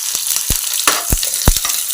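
Chopped onions frying in hot oil with mustard seeds for vegetable fried rice: a loud, dense sizzle broken by sharp pops and crackles, close up with no talking.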